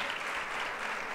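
Brief, steady applause rises from an audience in a room during an open dialogue event in Jordan, a soft continuous wash of clapping with no voices.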